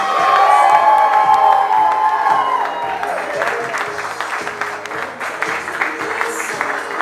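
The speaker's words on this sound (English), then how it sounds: "Please keep your applause going" Wedding guests at a Navy base officers club reception in Newport, Rhode Island, burst into loud applause with cheers and whoops, the clapping staying dense and close throughout.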